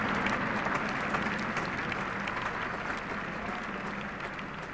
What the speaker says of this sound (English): I don't think those slow hand claps will do very much good.